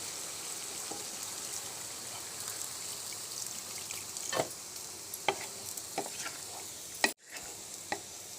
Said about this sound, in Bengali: আমি এখন ঝোলটা অ্যাড করে দেব।